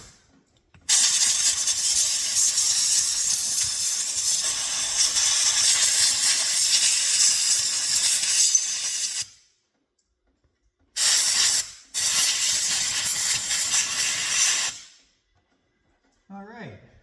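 Compressed air blasts loudly from a nozzle to clean a chainsaw carburetor, a harsh close hiss in two long bursts separated by short silences, then a brief final spurt.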